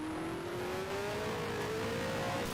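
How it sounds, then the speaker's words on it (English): A USAC race car engine drones steadily at Trenton in 1974, its pitch slowly climbing as it revs, with constant loud mechanical noise and no voices. "Looks like we'll have green flag this time by the sound of the revs in David's car."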